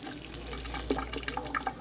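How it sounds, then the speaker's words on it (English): Wild foraged salad greens are rinsed under a running tap indoors, a soft, steady wash of water with faint splashes and spatter against leaves and a strainer, fairly close and quiet, with no talking. "I'm going to give these a good rinse"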